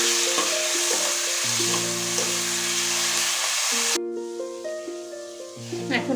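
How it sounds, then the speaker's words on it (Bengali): Onions fry in hot oil, a loud, steady, close sizzle with occasional stirring, running under sustained musical tones that fade briefly before swelling again. "পেঁয়াজটা একটু আমি হালকা লালচে করে ভাজবো।"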